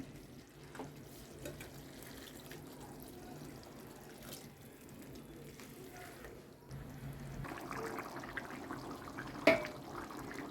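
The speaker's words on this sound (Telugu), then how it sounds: "ఇప్పుడు ఇంకొంచెం వాటర్ వేస్తాను ఉడకటానికి" Water pours into a simmering prawn and cucumber curry, a soft, quiet trickle that swells into a fuller splash for the last few seconds, with no talking.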